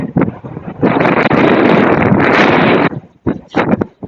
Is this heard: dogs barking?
no